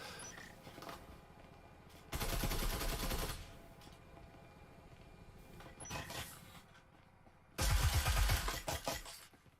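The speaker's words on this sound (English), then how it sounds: "They're going to try and do it again with the double Marui wall bang shots." Two bursts of wall-bang gunfire in the virtual reality shooter Breachers, loud and dense, the first around two to three seconds in and the second near the end, over a low steady game-ambience background.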